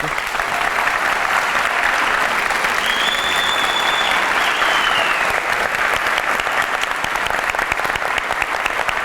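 A studio audience bursts into steady, sustained applause honouring Yeşilçam film actors, both living and departed, on a Turkish TV show. The dense clapping holds evenly throughout with no pause.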